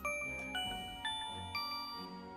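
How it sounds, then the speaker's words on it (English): An announcement chime from Pokemon Masters EX rings out as four bright, evenly spaced bell-like tones, each ringing out and decaying before the next, clear and alone. "Ding dong."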